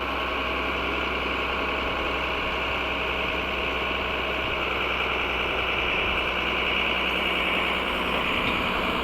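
A loud, steady engine drones and idles without pause, with a constant low rumble and mechanical vibration throughout.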